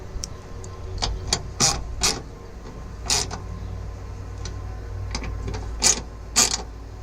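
Bolts on a DS3 bonnet gas strut mount are tightened, giving scattered sharp metallic clicks and short ratcheting bursts over a low background hum. The sounds come in irregular close groups.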